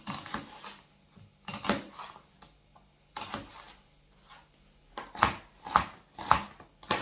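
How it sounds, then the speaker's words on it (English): A knife dices an onion on a cutting board in short bursts of quick, crisp chops separated by brief pauses, close and fairly quiet. "Now I'm going to dice my onion for my meal pot or my roast chicken."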